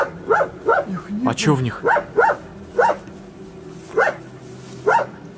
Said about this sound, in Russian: пёс привлекает слишком много внимания. Он всегда лает